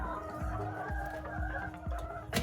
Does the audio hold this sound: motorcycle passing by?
no